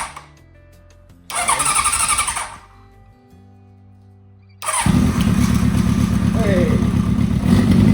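A 1981 Honda CB900 Custom motorcycle cranks briefly, stutters and falls quiet, then fires up and settles into a loud, steady running idle close by, with a short shout heard partway through.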